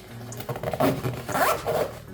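A small zipper on a mini bag's pocket is pulled open in a few quick, close, raspy strokes, crisp and clear with no talking.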